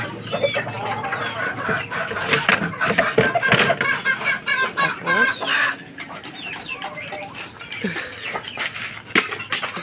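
Hens and young chicks cluck and cheep in a busy, overlapping chorus close by, with a louder squawk midway and a person talking now and then.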